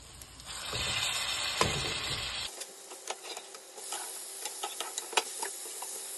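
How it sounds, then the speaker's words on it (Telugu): Chicken for butter chilli chicken fries in butter in a pan, a steady sizzle with stirring scrapes and occasional sharp clinks of a utensil, close and without voices. "బటర్లో ఫ్రై చేయండి."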